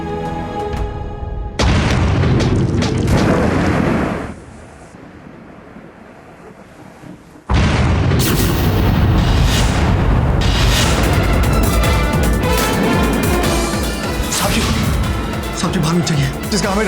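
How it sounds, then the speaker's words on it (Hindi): Gunshots and bomb explosions sound outside in a dramatic scene: loud booming blasts and rumbling bursts come in waves, drop away briefly, then surge back loudly, with voices mixed in. "बाहर गोली बम की आवाजें आ रही हैं।"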